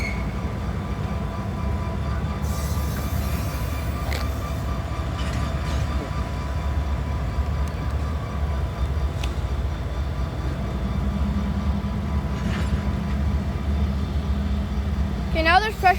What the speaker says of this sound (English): I believe that's pressure being relieved from the Union Pacific, so I think they might be about to start moving